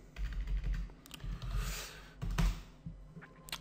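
Computer keyboard typing, close and clear, bursts of quick key clicks with short pauses between runs, steady rhythm throughout.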